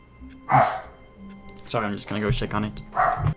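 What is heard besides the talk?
dog barking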